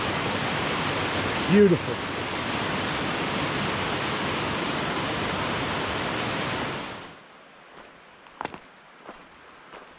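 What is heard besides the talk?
Little River water flowing by the bridge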